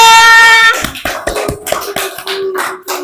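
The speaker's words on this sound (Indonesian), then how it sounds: "Yuk tepuk tangan dulu buat Friza." A few hands clapping in a classroom for a student named Friza, sparse uneven claps following a sustained tone, close and fairly loud.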